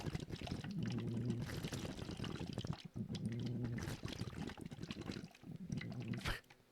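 Water splashes and pours in bursts during a breathing or vocal exercise, with several gushing spells broken by short pauses, close and fairly soft.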